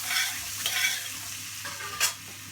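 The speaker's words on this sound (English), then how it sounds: "Really sizzling now." Vegetables for a curry sizzle in a pan with a soft, steady crackle, broken by a few scraping stirs.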